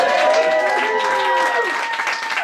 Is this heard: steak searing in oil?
no